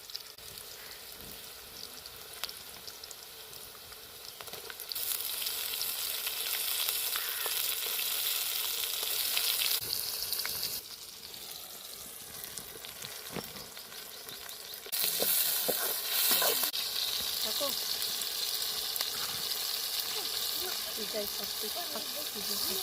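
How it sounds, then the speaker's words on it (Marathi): Onion and chili frying in a pan, a hissing sizzle that swells louder in two bursts and settles back between them, with scattered stirring scrapes. "पाहिला कांदा तर टाकून घेतलेला आहे त्याच्यानंतर मिरची टाकून घेतलेली आहे"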